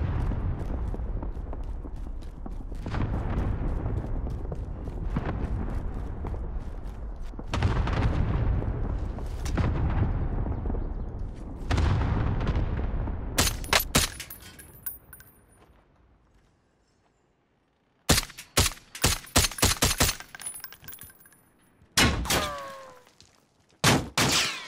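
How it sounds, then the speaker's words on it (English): Cluster strike explosions in a video game, a series of heavy booming blasts rolling one after another, then a quiet gap before sharp cracks of gunfire in clustered bursts. "Cluster strike away."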